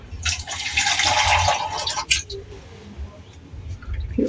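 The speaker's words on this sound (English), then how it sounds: "Then we're going to add some water." Water splashes out of a pouring vessel into a bowl of samosa sealing paste for a couple of seconds, a close rushing trickle, followed by quieter clinks and handling as a voice speaks softly nearby.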